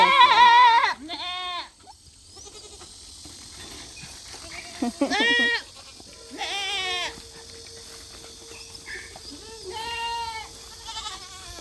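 Baby and adult goats on a small farm bleat in several separate, wavering calls, some loud and close, with quieter gaps between them.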